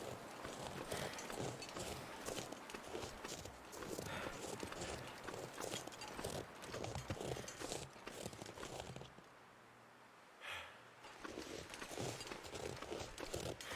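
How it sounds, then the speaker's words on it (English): Footsteps in the video game The Long Dark, a steady run of crunching, clip-clop-like steps that go on for most of the stretch, pause briefly, then return, loud and fairly close. "Thought I was hearing footsteps down below"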